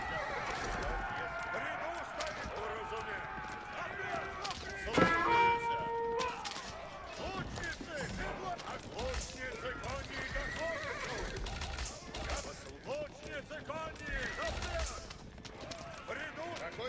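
Horses of mounted archers neigh and whinny in a video game battle, several sharp calls over clip-clopping hooves and distant combat, with a voice talking over the action.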